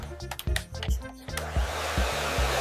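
A hair dryer whirs at close range, its motor hum shifting pitch as the settings change, then blowing steadily.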